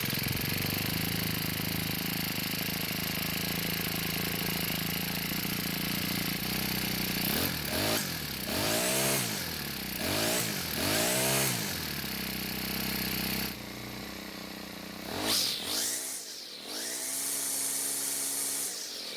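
A Cub Cadet 4-cycle string trimmer engine starts and runs after a carburetor fuel adjustment, a loud steady buzz with several rising and falling revs, then a brief dip before it keeps running.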